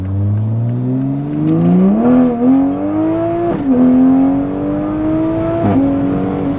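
A car running an ethanol E blend tune accelerating hard, engine pitch climbing through the gears with brief dips at each shift, loud and close from inside the cabin.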